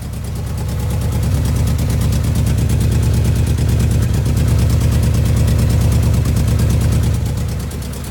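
A 1982 Subaru BRAT engine idles loudly through a rusted-out muffler, a steady low, throbbing rumble with a rapid pulsing exhaust beat that holds even throughout.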